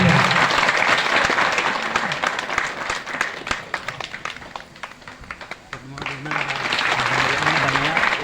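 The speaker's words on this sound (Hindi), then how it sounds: "तालियां" Audience applause at a ceremony, loud dense clapping that thins into scattered claps midway and then swells again, with voices murmuring underneath.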